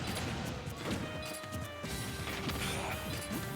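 Repeated up smash attacks land in a Super Smash Bros. Ultimate match between Snake and ROB, giving sharp cracking impacts over busy game noise, with faint talk beneath.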